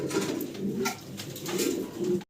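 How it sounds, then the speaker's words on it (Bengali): A pair of large highflyer pigeons coo close by in a series of soft, rolling, throaty calls that swell and fade in a repeating rhythm. "ভিডিও স্ক্রিনে দর্শক চমৎকার এক জোড়া হাইফ্লার কবুতর দেখতে পারতেছেন"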